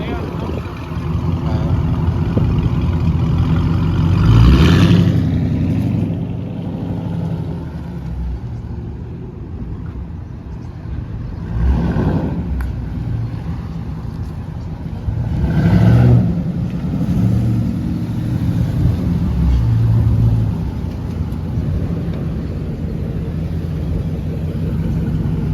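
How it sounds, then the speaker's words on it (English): A car engine idles and rumbles close by while the car is turned around, swelling into a few brief throttle surges, with people talking over it. "Let me turn my car around."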